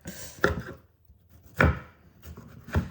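A knife chops vegetables on a board in three sharp, separate strokes spaced about a second apart, close and fairly quiet.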